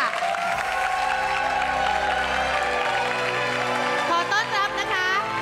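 A studio audience claps and cheers to welcome a panel of judges at a televised singing competition's final audition, with steady applause under bright music and a host's voice on top.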